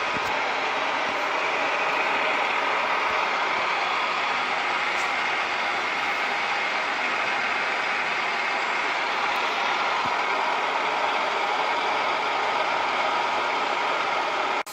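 A milling machine runs steadily while cutting a spur gear, its dense mechanical whir and gear noise continuous and loud throughout, with no talking.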